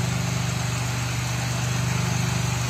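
A carbureted Honda Civic engine idles at low RPM, giving a steady, close, low rumble with an even pulsing throb and no talk over it.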